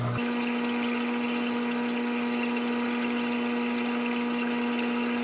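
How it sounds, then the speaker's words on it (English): Pump steadily pushing new salt water into an aquarium sump during an automatic water change, a constant hum with a trickle of liquid, close and unbroken throughout. "That's the new salt water going in there."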